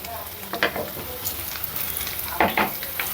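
Masala for egg fried rice fries in a pan, a constant close sizzle broken by scraping, clattering strokes of a spoon as it is stirred, with no talk.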